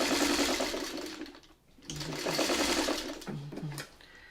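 A sewing machine stitches a quilt seam for a windmill block in rapid, close bursts, pausing briefly midway before whirring on again with a few short starts and stops.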